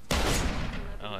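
A single loud gunshot cracks from Deus Ex: Human Revolution, fired at point-blank range, its blast ringing out and decaying over about a second as game ambience rises behind it.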